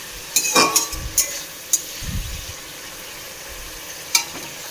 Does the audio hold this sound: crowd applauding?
no